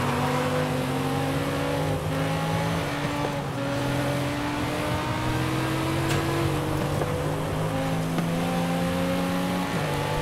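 In a racing video game, a race car engine drones steadily with rising and falling pitch as the driver repeatedly lifts off the throttle, a continuous close mechanical tone with no talk.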